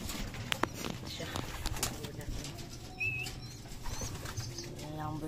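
Pigeons in a backyard coop, with a soft coo and bursts of wing flapping amid rustling and faint background chatter, moderately close.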